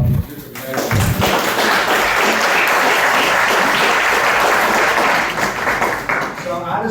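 A room of attendees at a county executive committee meeting bursts into sustained applause, loud and dense for several seconds before tapering slightly, with voices mixed in.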